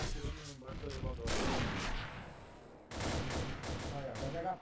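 Gunfire from the online shooter Combat Arms on the Piazza map, loud bursts of shots in two clusters separated by a brief lull, with players talking over the action.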